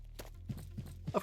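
A horse in a video game clip-clops at a walk, a few distinct hoof falls spaced evenly, fairly faint and close.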